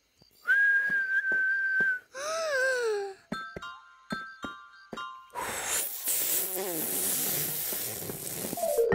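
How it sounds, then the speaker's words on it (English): Breathy whooshing blows from a cartoon lion cub trying and failing to whistle, several short puffs and airy gusts, with a brief clear whistle-like tone early and a longer rushing blow at the end; no talk over it. "Good whooshing noise, Raa Raa. But it's not whistling."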